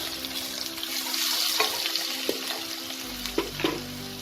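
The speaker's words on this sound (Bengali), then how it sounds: "আলুটা লাল করে ভাজা হয়ে গেছে।" Three long-cut potato strips sizzle and fry in hot oil in a pan for a Bengali bhetki fish dish, a steady close crackle broken by a few scraping stirs, with no talking.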